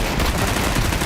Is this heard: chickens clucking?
no